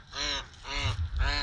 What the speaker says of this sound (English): Of course the ducks want to yell while I'm talking.